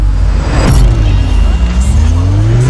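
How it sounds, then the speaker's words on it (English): Layered transition sound effects sweep past in a loud, dense burst: rising risers, several whooshes, a camera flash snap and crackling static blending into one short, swelling rush. "I've got 3 different whooshes."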